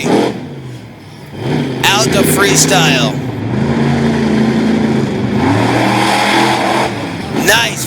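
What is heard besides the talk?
Black Stallion Ford racing engine monster truck revving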